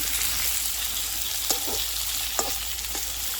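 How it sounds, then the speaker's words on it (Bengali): Kohlrabi and potatoes are stirred and fried in a pan, giving a steady close sizzle with a few sharp scrapes and clinks of the spoon against the pan. "এই যে ভালো করে এটাকে নাড়িয়ে করে ভেজে নেব আমি সুন্দর করে"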